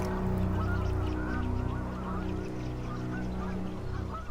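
Migratory geese and other waterfowl honk and call steadily at alpine ponds, a dense overlapping chorus of many birds at moderate distance with no voices.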